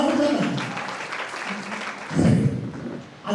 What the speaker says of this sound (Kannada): ಒಂದು ಬಾರಿ ಜೋರಾಗಿ ಚಪ್ಪಾಳೆ.